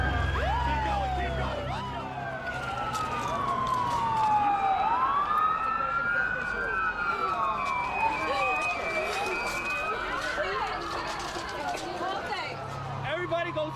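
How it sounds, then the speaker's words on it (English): An ambulance siren wails with rising and falling sweeps amid an evacuation, steady and fairly loud, heard over road traffic noise. "This ambulance is about 100 feet ahead."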